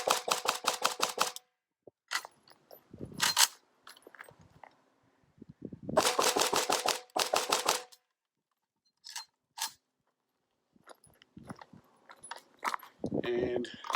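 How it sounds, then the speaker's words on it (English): A Norinco AK47 fed from an M&M polymer waffle magazine fires in several rapid bursts of sharp shots separated by quiet gaps, with a few voices talking between strings of fire. "So this is the Norinco in the M&M polymer waffle mag."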